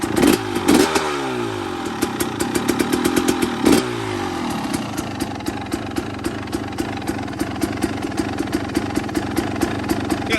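A 2021 KTM 300 XC-W two-stroke dirt bike engine runs close by, with a couple of sharp throttle blips early on before it settles into a fast, rattly idle that holds steady to the end.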